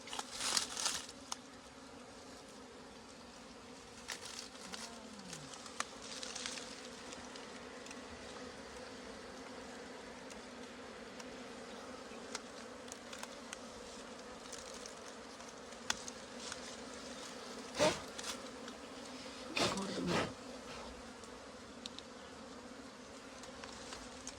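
Bees and wasp-like insects drone steadily around an old honeycomb being cut out of a hive, a continuous low buzz lasting throughout, with occasional closer passes and a few soft taps or clicks.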